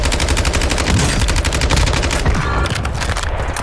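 Rapid bursts of automatic gunfire crackle continuously in Call of Duty: Warzone 2.0, dense and loud, as weapons trade shots back and forth without pause.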